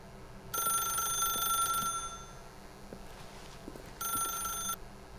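A telephone rings in the video game The Stanley Parable with two bright, electronic ring bursts, the first longer and the second shorter, separated by a quiet pause over a faint background hum.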